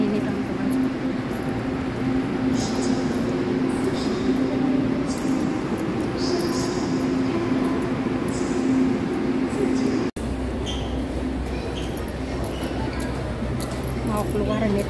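Continuous rumbling drone of a train interior near Taichung station, Taiwan, with a steady low hum and faint clinks, running throughout; a brief cut near the end.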